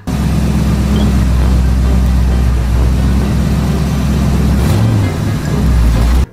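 A car drives in the Roblox Brookhaven video game with a loud, steady low engine drone that dips slightly near the end. No one talks over it.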